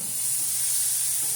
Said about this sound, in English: we got a nice hot grill, lump charcoal. We're going to sear these on each side